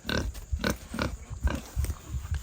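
Pigs grunt in a rapid, rhythmic series of short, low snorts, close by, with no talking.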